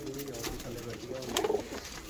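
Breeder pigeons in a loft coo in low, throaty rolls, with a louder burst near the end amid general background noise.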